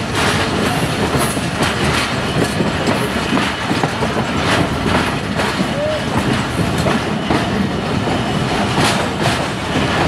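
A train rolls past on a branch railway line near Sialkot, its steady loud rumble and rhythmic wheel clatter continuing close by without pause.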